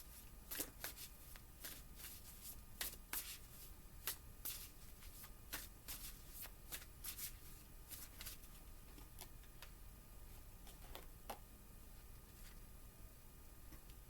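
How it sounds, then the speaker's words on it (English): Tarot cards are shuffled by hand in a quiet room, with soft, quick riffling bursts and light flicks repeating irregularly and faintly. "Let's pull some more cards."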